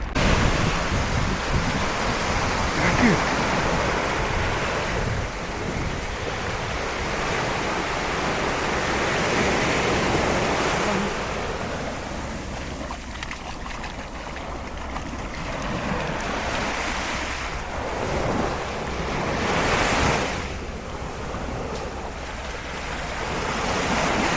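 Surf rolling onto the beach at Valencia, a steady wash of breaking waves with wind buffeting the microphone throughout, swelling in a few louder surges.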